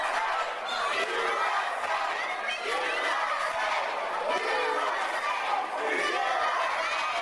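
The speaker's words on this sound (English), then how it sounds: "And listen to this audience." A wrestling arena crowd cheering and chattering loudly throughout, a dense continuous roar with rising swells of shouts.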